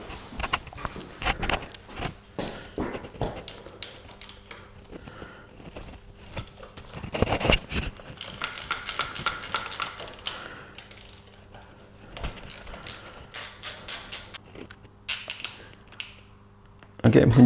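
A wrench works on the 10mm cam cover bolts of a Royal Enfield Classic 350, making close ratcheting clicks and metallic taps in short bursts, with a steady faint hum behind.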